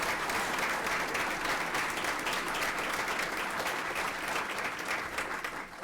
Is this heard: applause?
yes